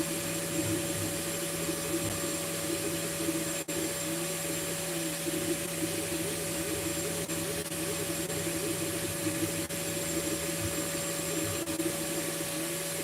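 An FLSUN S1 3D printer runs loudly in a basement, a steady close whirring roar of fans and motors with constant tonal hum and faint occasional clicks, no talking.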